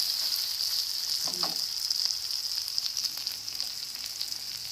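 Chopped onions for a chicken curry sizzle and fry steadily in a hot pan, a continuous bright crackle with a brief stirring scrape near the start, close up and with no talking.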